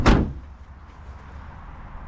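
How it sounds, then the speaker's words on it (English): A van's sliding side door is shut with one loud, close thud at the start, then only a low background rumble. "and shut the side door."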